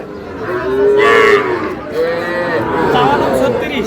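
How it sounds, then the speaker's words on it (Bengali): Cattle low repeatedly at a busy rural livestock market where young bulls are for sale, long loud moos close by over a background of crowd chatter and voices. "দেখান তো গরুগুলো।"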